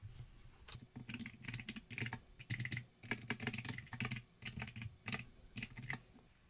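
Fast, steady typing on a computer keyboard while entering password text, a close, continuous run of sharp key clicks with brief pauses between bursts.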